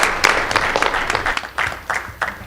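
Scattered applause at a school board meeting honoring a high school boys swim team, uneven clapping that thins into separate bursts as it fades.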